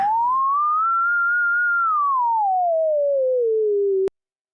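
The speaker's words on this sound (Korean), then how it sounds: "사인파 소리를 들을 수도 있습니다." A pure sine-wave tone from Chrome Music Lab rises gently, then drifts slowly downward in pitch for about four seconds before cutting off abruptly. It is clear and steady with nothing else around it.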